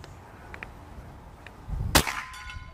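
A Kral Puncher Mortal X air rifle fires a single slug: one sharp, loud crack after a couple of faint clicks, followed by a brief ringing tail.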